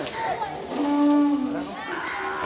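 A cow at a gaushala cowshed in Surat, Gujarat lets out one drawn-out moo in the middle, moderately close, over a soft background murmur.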